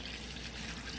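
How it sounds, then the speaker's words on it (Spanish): Water pours steadily into a cooking pot for boiling breadfruit, a continuous faint splashing rush with no break. "Pues vamos a proceder a echarle agua"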